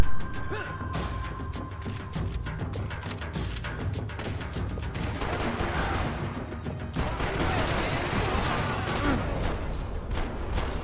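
Video game gunfire from Max Payne 3 on hard difficulty: sustained bursts of shots and clattering impacts fill the scene, loud and busy, with a brief voice near the start.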